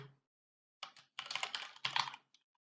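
Bursts of typing on a computer keyboard while code is being written, in three short clusters of quick clicking keystrokes, close and fairly loud, separated by brief pauses.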